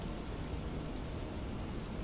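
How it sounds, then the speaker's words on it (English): Steady rain hisses evenly on a surface in a flight simulator game, a dense, constant patter with no voices. "Oh, look, it's raining."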